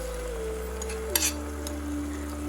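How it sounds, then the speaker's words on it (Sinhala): A chicken stock cube mixture is stirred in a pan over low heat, with a soft steady sizzle and a brief scrape of the utensil against the pan midway. "මේ විදිහට විනාඩි 5ක් විතර අඩු ගින්දරේ කලවම් කරගන්න."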